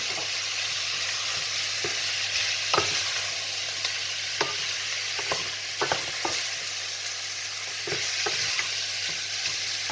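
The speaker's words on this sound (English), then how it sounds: "the lamb is now nicely browned in the hot oil. So into that I will now add the whole spices." Browned lamb sizzles steadily in hot oil as whole spices go in, a bright continuous fry with intermittent clicks and scrapes of stirring scattered through, close and even, with no one speaking.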